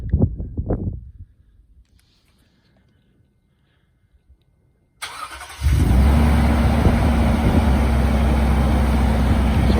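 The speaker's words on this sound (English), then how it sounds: "So we'll start it up." A 2020 Toyota Tundra TRD Pro in army green starts by remote after a few seconds of near quiet, then settles into a loud, steady idle, with a little wind noise.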